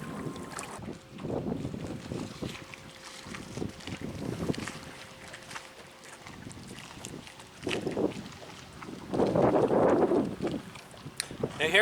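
A jet boat creeps along slowly on its trolling motor, with water splashing and a low engine hum under gusty wind noise buffeting the microphone, rising and falling throughout.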